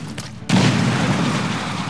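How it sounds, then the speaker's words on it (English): A bomb explodes in the video game XCOM 2: a sudden loud boom after a quiet moment, then a sustained rumbling roar of debris and fire that stays loud to the end, with no voices. "Bombs away!"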